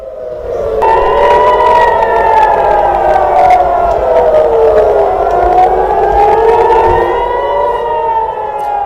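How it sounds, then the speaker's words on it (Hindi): Civil defense air raid sirens wail over Tel Aviv during an Iranian missile attack, loud rising and falling tones from several overlapping sirens that sweep continuously throughout, with faint crowd murmur beneath. "तेल अवीव और दूसरे शहरों में आज दिन भर सायरन बजते रहे"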